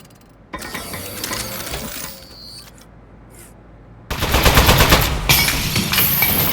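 Turret in a Portal-style video game firing bullets: a lighter rattling burst, a short lull, then a loud, dense stream of rapid-fire shots with metallic clinks that runs to the end.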